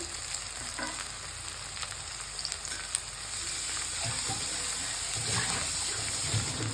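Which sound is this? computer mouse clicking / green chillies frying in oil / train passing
green chillies frying in oil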